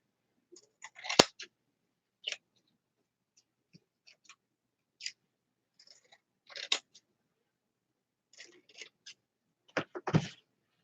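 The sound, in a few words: scissors cutting while making a wreath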